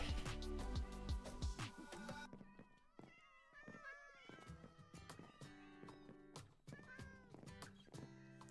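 Many Minecraft cats meowing over and over, overlapping high mews coming thick and fast, fairly close, over a dense backdrop of game noise.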